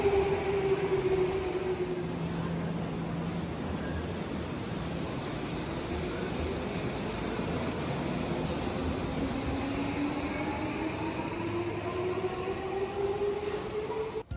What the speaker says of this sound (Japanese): ここ東銀座駅から日比谷線の中目黒方面の列車に乗り、一つ先の銀座まで向かいましょう。